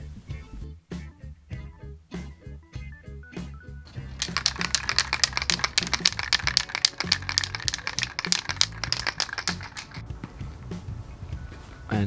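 A spray paint can used for stencil art is shaken hard, its mixing ball rattling in quick rhythmic clacks that start sparse and become a dense, continuous rattle, close and alone.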